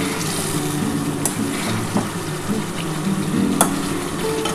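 Spice paste for egg curry sizzles steadily in oil, a continuous close frying crackle with a few soft clinks of a spoon stirring through it, no talking.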